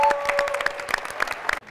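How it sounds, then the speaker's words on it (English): Dense, close applause at a school nutrition food-service event for participating teams, with many hands clapping in rapid overlapping bursts before cutting off sharply near the end. "Round of applause for the judges."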